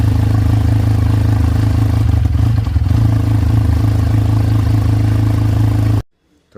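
Motorcycle engine fitted with an add-on turbo whistle on an H2 bike, running steadily up close with a loud low rumble and clatter for about six seconds before cutting off abruptly.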